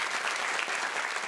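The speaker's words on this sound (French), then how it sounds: "Bon, applaudissements, s'il vous plaît." A studio audience applauds on a French talk show, a steady, even patter of many hands clapping at moderate volume, without voices above it.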